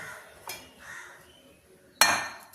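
A metal bowl is picked up and set down for soybean pakoda batter, giving two sharp close clanks, a lighter one first and a louder ringing one near the end.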